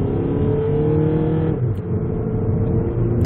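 A 2012 North American Volkswagen Passat accelerates uphill, its engine and road noise a steady loud interior drone that rises slightly in pitch, with no talking.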